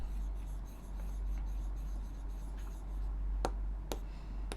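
A pen writing on paper, giving a soft continuous scratch over a steady low hum, closed by a few sharp taps near the end, with no talk.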